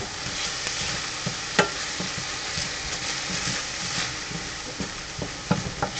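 Ginger fries in a hot pan, giving a steady soft sizzle with occasional light clinks and stirring sounds, fairly quiet and close, with no talking.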